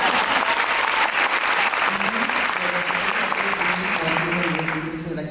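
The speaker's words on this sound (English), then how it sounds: "Please, a round of applause." Sustained applause from an audience at an arts talk event in Bangkok, dense clapping throughout with a steady level, fading slightly near the end, with faint voices and tonal sounds beneath.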